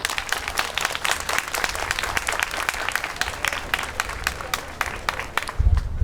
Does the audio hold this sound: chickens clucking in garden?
no